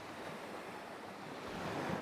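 Surf washing onto Chaweng Beach on Koh Samui, Thailand, a steady close wash of waves with wind noise, building slightly louder near the end, no voices.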